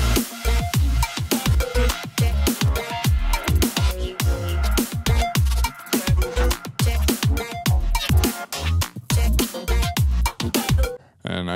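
Neuro bass music excerpt built from heavily edited basses and a click sample, with dense, rhythmic, punchy growling bass hits and sharp transients in rapid succession, ending abruptly.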